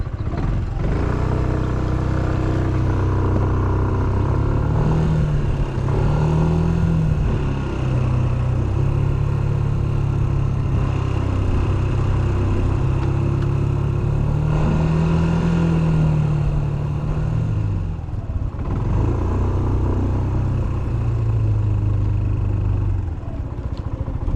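Yamaha Smax 155 scooter riding around a Lake Como, Montana recreation area, a steady mid-pitched engine drone with small rises and falls in revs, continuous and close throughout.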